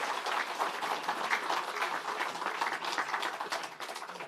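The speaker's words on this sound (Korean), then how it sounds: "여러분 뜨거운 격려의 박수 부탁드립니다." Dense, sustained applause from lawmakers at a People Power Party meeting electing a new floor leader, a steady wash of many hands clapping at moderate distance with no talk over it.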